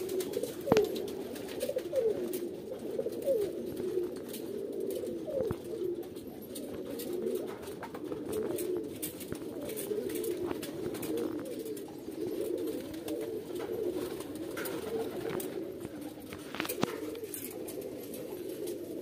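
Pigeons of a Madrasi breed coo steadily in a loft in Kolkata, a dense, continuous murmur of overlapping low coos with occasional wing flutters and knocks, fairly close and without speech.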